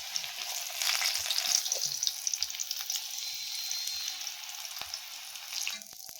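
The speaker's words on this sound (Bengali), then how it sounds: "এখন আমি বড়াগুলি কড়াইতে ছেড়ে দিচ্ছি।" Lai flower fritters (bora) frying in oil in a kadai, a dense, bright crackling sizzle that holds steady throughout, with a few soft utensil taps near the end.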